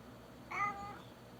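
A house cat gives a single short, faint meow in a quiet indoor room, with no other sound around it.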